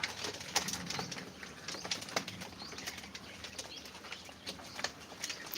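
Caged quails flap their wings in a series of quick, irregular flurries, with some faint soft calls in between, all close by and fairly quiet.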